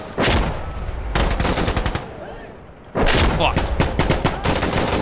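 Bursts of automatic fire from an Alpha AK rifle in a shooter game, loud and close, with rapid strings of shots, a brief pause, then another sustained burst; a man swears once.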